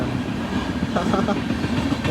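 A train rumbles past close by, a steady low roar with faint rhythmic clatter, while people talk over it.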